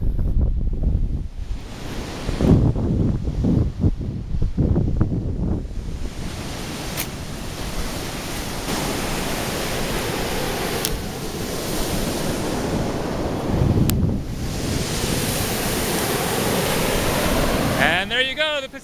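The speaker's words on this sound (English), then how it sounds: "And there you go, the Pacific Ocean." Pacific Ocean surf on the Oregon coast, steady crashing waves with wind buffeting the microphone, continuous wash of water and a few sharp gusts.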